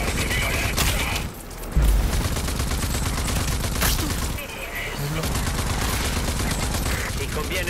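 Enemy gunfire in the shooter game Rage 2: rapid bursts and fusillades of automatic weapons crackle almost continuously, with a short lull and a few booming hits, loud and close.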